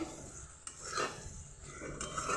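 Fried eggplant being stirred in a pan, soft scraping and rubbing strokes of a utensil against metal with a faint sizzle underneath, close and quiet.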